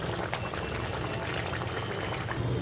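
Water at a rolling boil in a pan for pomfret fish curry with mustard oil, a dense continuous bubbling and burbling, close and steady throughout with no voices.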